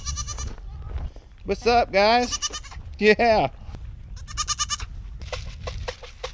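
Goats on a sanctuary being moved to a new home bleat in several loud, wavering calls close by, interspersed with brief casual talk from people nearby.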